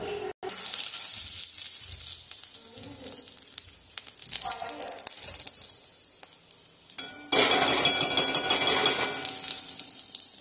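A spoonful of ghee sizzles in a hot kadhai, a broad crackling hiss with light stirring and pan clinks that swells sharply loud and dense toward the end.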